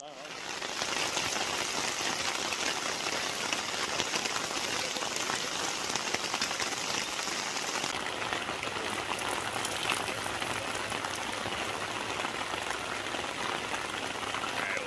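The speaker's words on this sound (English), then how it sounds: "It started pouring rain and it's just absolutely dumping buckets out here right now." Heavy rain pouring down on a camp in Alaska, a dense, loud, continuous hiss of drops pattering on surfaces close by, steady throughout.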